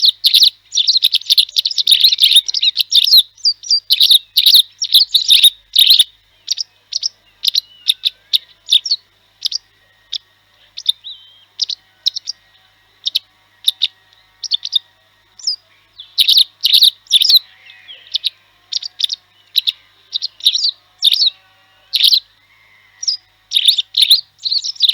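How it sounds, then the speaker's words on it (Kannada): Calls of a white-browed wagtail foraging with its mate and chicks: bright, high chirping phrases in repeated bursts with short pauses, clear and fairly close against a quiet background. "ಬಿಳಿ ಬಣ್ಣದ ಕುಂಡೆಕುಸ್ಕ ಪಕ್ಷಿಯ ಕರೆಯನ್ನು ಒಂದ್ಸರಿ ಕೇಳಿಸ್ಕೊಳ್ಳೋಣ"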